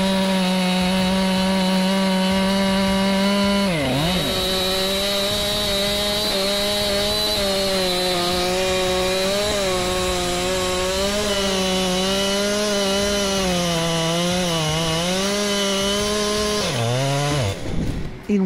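A Husqvarna 592 XP chainsaw with a 90 cm bar cuts through large hardwood logs, giving a loud, continuous high whine that dips under load twice and revs back up, close and alone.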